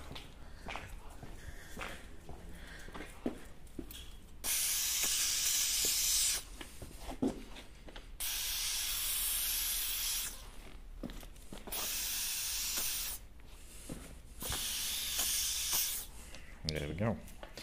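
Aerosol spray hisses in four steady bursts of about two seconds each onto a parking sensor of a Jaguar XF S 3.0 V6, fairly close, separated by quieter gaps with light handling noises.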